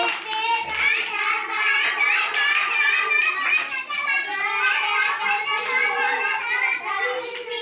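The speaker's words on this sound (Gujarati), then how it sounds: "હા તાળી વગાડો ઉપર તાળી વગાડો" Young children clap their hands together in a classroom activity, a loose ragged patter of many small claps under constant lively child chatter and an adult voice.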